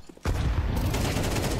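Gunfire in a Counter-Strike esports match on the Nuke map: after a brief quiet moment, a sudden, sustained burst of rapid shots erupts, loud and continuous to the end, with no voices.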